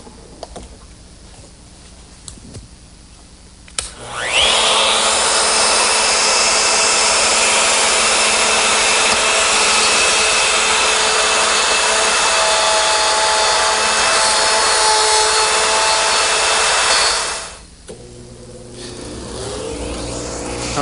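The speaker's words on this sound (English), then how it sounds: "this collar on my router will ride for the mortise cuts. I'm using a 1/2-inch straight cutter." A router fitted with a 1/2-inch straight cutter and a guide collar cuts a 1.25-inch-deep mortise in wood. It screams loudly and steadily for about thirteen seconds, then winds down, with quiet shop noise before and after.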